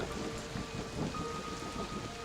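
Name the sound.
thunder and rain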